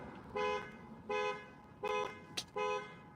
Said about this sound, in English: here we go with this alarm again